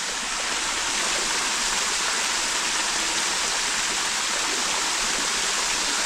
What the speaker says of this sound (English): We got a waterfall, boys.